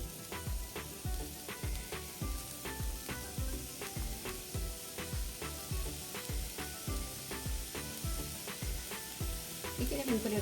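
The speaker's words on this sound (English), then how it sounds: "So we're gonna saute this one too while that is cooling down." Mushrooms sizzle in a hot pan with rhythmic stirring scrapes, a steady crackling fry close by, and no voices.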